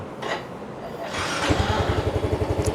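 A 2019 GT 125i scooter engine cranks briefly, then catches and settles into a steady, rhythmic low putter at close range, loud and unaccompanied by talk.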